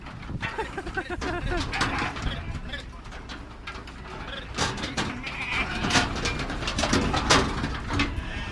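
Sheep bleat repeatedly amid a busy livestock market in Riyadh, with hooves clattering and people talking over the animals throughout.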